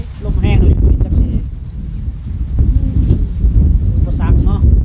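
Strong wind buffets the microphone in continuous low rumbling gusts outdoors, while people chat loosely over the noise.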